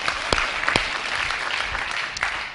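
Applause from a conference audience during a youth poetry talk in New York, a dense burst of clapping that holds steady through the short stretch with a few sharper claps standing out.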